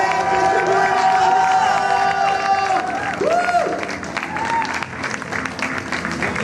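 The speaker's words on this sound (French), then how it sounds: "On applaudit." Audience applause and cheering at a summer speedrunning tournament, a dense wash of clapping with whistling tones and voices mixed in, loud and continuous before easing slightly toward the end.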